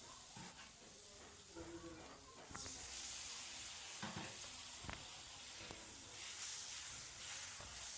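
Spices with cumin, turmeric and salt frying in a pan, a steady sizzle that jumps louder and hissier as a little water is added partway through, with occasional stirring clicks.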